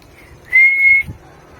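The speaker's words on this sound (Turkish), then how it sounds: "Düdüğümle." A referee's whistle gives one sharp, steady blast of about half a second to start a free kick at a casual match, loud and alone over quiet background.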